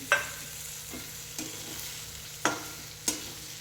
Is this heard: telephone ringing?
no